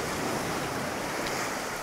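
Ocean waves wash onto Playa del Papagayo beach on Lanzarote, a dense, steady hiss of surf close by, blended with some wind noise on the microphone and no voices.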